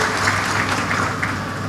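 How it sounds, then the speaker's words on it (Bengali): An audience claps steadily at a Bangla news talk event, a dense, even wash of applause throughout with no voices over it. "এখন সবাই হাততালি দিচ্ছে, একটু দেন।"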